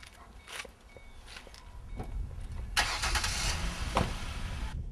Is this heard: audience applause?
no